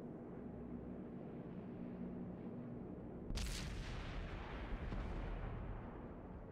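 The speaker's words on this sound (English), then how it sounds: "Bat chat bouncing a shot" A Bat Chat tank in World of Tanks takes a shot that bounces off its armour: a sudden loud cannon crack and impact midway through, over a constant low battle rumble, with no talk.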